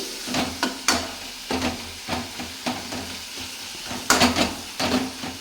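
Mint and tomato sizzle in a frying pan, stirred in a steady run of scraping strokes over a constant crackling hiss, close and fairly loud with no talking.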